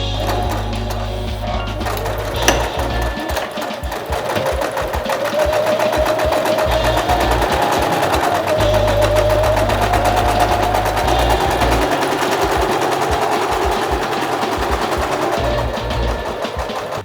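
A sewing machine stitches a drawstring onto a cotton fruit protector bag, its fast needle chatter running loud and close with brief pauses and changes in speed.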